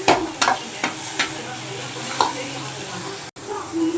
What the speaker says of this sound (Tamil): தக்காளி போட்டோம்.